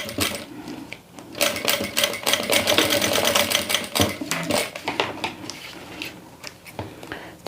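A sewing machine runs a line of stitching along a clear transparent toiletry bag, a rapid even whir of needle strikes sounding close and steady, briefly pausing before starting again.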